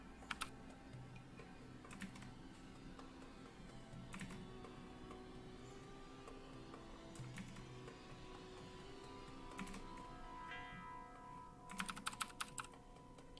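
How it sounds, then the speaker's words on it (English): Keys clatter on a computer keyboard during an online World of Warcraft raid, soft scattered taps through most of it and a quick burst of louder typing near the end, faint beneath game sounds. "Whose keyboard is that?"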